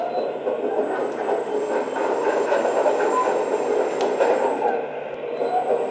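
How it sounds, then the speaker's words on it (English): Track drive of a 1/10-scale RC hydraulic bulldozer's onboard sound system, a steady rumbling, clattering mechanical loop that plays continuously and fairly loud, with no talk over it. "Track sound."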